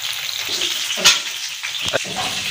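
Fish pieces frying on a flat tawa give a steady close sizzle with a few sharper crackles and bursts, alone without any talk.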